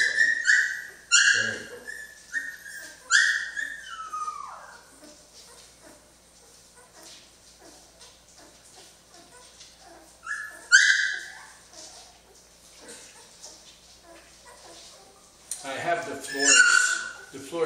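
Two-week-old Jamthund puppies whimper and yip in high, wavering cries in short bursts, close by, with someone speaking softly between them.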